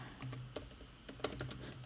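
Light clicking keystrokes on a computer keyboard, a handful of quick taps spaced irregularly over a quiet room tone, close and fairly soft.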